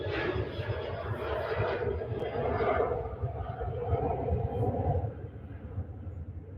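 A Ryanair airliner takes off at Manchester Airport, its broad engine roar holding steady and loud before easing slightly toward the end, with wind buffeting the microphone and a voice speaking over it.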